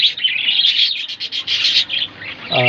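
Budgerigars chirp steadily while eating green leafy vegetables, a close, continuous flurry of bright overlapping tweets with a brief pause, no talking.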